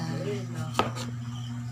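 A single sharp knife chop through a cucumber hits a board close up, over a steady low hum with faint background talk.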